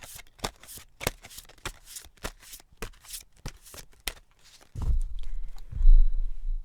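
A deck of tarot cards being shuffled up close, a rapid series of crisp riffling slaps in steady rhythm, followed by heavier handling thuds as the deck is squared, with no talk.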